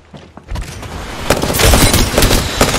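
Bursts of gunfire from Apex Legends crackle in rapid, dense volleys that grow louder and busier toward the end, with no talk over them.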